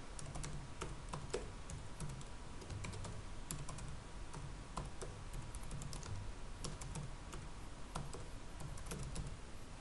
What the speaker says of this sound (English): let me just go ahead and put in a password here